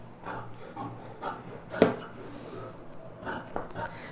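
Scissors cut through chudidhar lining fabric in a quiet, close series of soft, evenly spaced snips, about one every half second, with one sharper crisp cut partway through.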